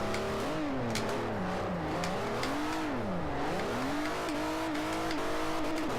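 A Hyundai Genesis drifting in Forza 4, its engine revving hard in continuous sweeping pitch rises and falls with tire noise underneath, loud and close throughout.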